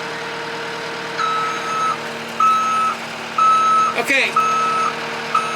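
A tractor reverses while helping remove the bed from a C20 Chevy pickup. Its high electronic reversing beeps sound in regular on-off pulses over a steady engine hum, and someone speaks briefly near the end.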